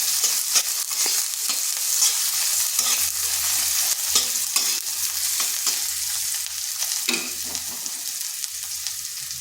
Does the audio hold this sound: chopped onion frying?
yes